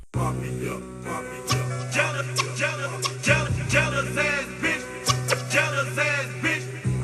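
An original 1990s song sample plays alone, a layered musical loop with a steady sustained low tone and repeating bright melodic stabs.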